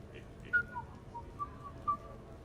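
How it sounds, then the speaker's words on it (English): A video game character whistles a short, thin tune of a few rising and falling notes, soft and fairly close, over a quiet background hum. "Are you whistling?"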